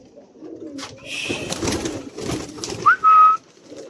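Pigeons released from their cages coo and flutter nearby, with a brief clear whistling call near the end.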